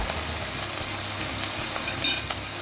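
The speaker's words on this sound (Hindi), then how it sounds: "बस आपको इसी तरीके से इसे फ्राई करना है इसमें।" Spices, black pepper and peri peri powder frying in a pan for a pizza topping, a steady close sizzle with faint stirring scrapes throughout and no talking.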